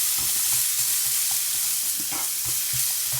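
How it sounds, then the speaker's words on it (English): Onions fry in a hot pan for a hot dog omelette, giving a steady close sizzle with intermittent stirring scrapes and soft clatters throughout. "To get that frying"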